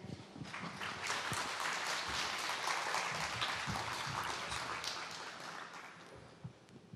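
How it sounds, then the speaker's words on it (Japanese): Audience at a Tohoku University liberal arts salon applauds to welcome a lecturer, a dense steady clapping that swells quickly, holds for several seconds and tapers near the end. "皆様拍手でお迎えください"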